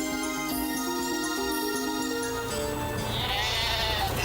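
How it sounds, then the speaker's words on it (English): A cartoon sheep bleats over a bright, continuous music track, with the wavering animal call running through the middle and the music staying loud throughout. "Look at those sheep. They're jumping."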